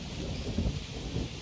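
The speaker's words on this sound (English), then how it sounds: "Oh, it's raining." Rain in the jungle survival video game Green Hell, a rushing, rumbling downpour with low thunder-like weight, fairly loud and unbroken for a brief moment.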